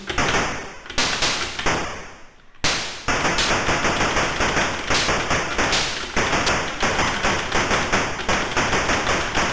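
Rapid, continuous gunfire from the Atari ST game Lucky Luke: Nitro-glycerine, a dense stream of sharp shots repeating throughout after a brief pause near the start, loud and without speech.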